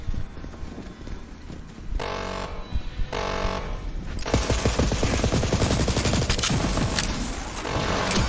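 Rapid automatic gunfire in the game Psycho Krieg and the Fantastic Fustercluck, a dense, loud rattle of shots that intensifies midway and keeps going with little let-up.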